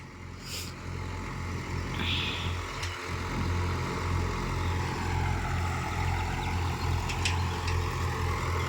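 Two tractors ploughing the same field side by side, a steady low diesel engine drone with harmonic hum running continuously throughout, fairly close and unbroken, with no talk over it.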